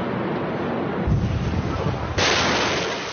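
Amateur footage of the chain explosions at Beirut port, caused by stored ammonium nitrate: a deep, rumbling boom swells midway, then a harsh wind-buffeted roar, loud and distorted through a phone microphone.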